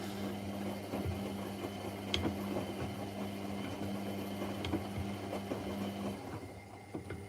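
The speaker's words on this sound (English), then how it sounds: "Even though the belt slipping isn't healthy, I do kind of like the sound of it." A Hotpoint washing machine's slipping drive belt gives a steady low whirring drone with faint rhythmic ticks, fairly quiet and continuous, with no voices.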